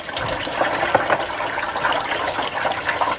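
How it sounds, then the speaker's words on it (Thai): Boiled eggs fry in hot oil for Thai son-in-law eggs, a dense continuous sizzle and crackle heard close up with no talking. "ต้มไข่เสร็จนะ เราก็มาทอดแบบนี้นะครับ"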